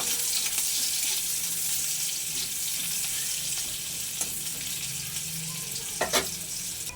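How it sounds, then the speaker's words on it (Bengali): Chopped onions fry in a pan for a prawn-stuffed pointed gourd dorma. They give a steady, fairly loud hiss and sizzle throughout, with a few brief utensil scrapes near the end and no speech. "অল্প একটু পেঁয়াজ কুচি দিয়েছি, পেঁয়াজটা একটু লাল লাল করে ভেজে নেব।"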